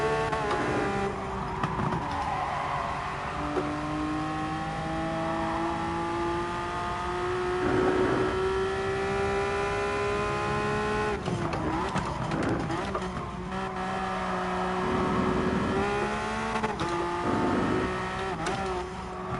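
A Porsche GT3 RS racing the Nürburgring GP circuit in a PS4 racing game, its engine revving loud and close with rising pitch through the gears, sharp shifts and brief tire squeals, while someone talks over it.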